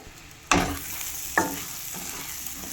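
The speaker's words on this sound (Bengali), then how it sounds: "আবার ভালো করে নেড়ে নিচ্ছি।" Prawns with turmeric and salt sizzle in a pan as a spatula stirs them, two sharp scraping clatters rising over a constant close frying hiss, no voices present.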